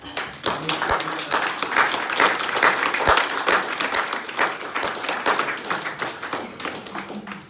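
Audience applause at a training and promotion event, a steady burst of many hands clapping indoors for several seconds, fading toward the end.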